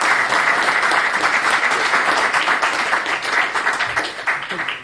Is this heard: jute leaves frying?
no